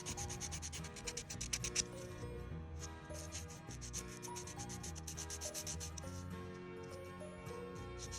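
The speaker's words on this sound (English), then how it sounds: "Now you can use the buffer file." A fingernail is buffed with the coarse side of a buffer file during a dip powder manicure, giving a close, continuous scratchy rubbing in quick repeated strokes.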